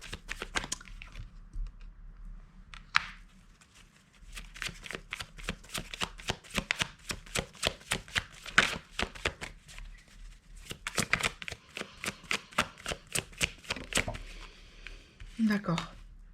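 Tarot cards shuffled to draw another card, a long run of rapid crisp riffling clicks with a brief pause partway through, close and fairly loud, while a person talks over them.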